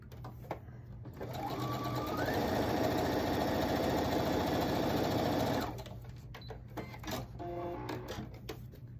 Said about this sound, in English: So I'm just gonna sew a 1/4 inch right down that line.